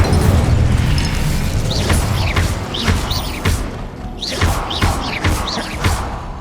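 In Hogwarts Legacy, spells including the Incendio fire spell are cast in rapid succession, making a run of whooshing, crackling bursts with booming thuds, loud and close over continuous game ambience.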